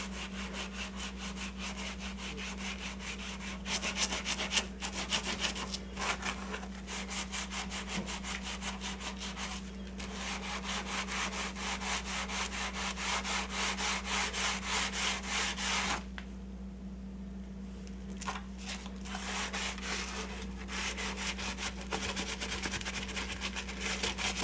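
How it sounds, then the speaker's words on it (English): Kitchen cabinets are scrubbed clean with repeated rapid rubbing strokes, a close, rhythmic scratchy swishing that pauses briefly now and then before resuming. "just that little bit of scrubbing, barely any elbow grease at all is needed"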